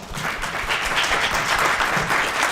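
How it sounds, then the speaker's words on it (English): An audience at a business college talk applauds a panel with steady, full clapping that holds at an even level from start to finish. "Let's give this panel a round of applause."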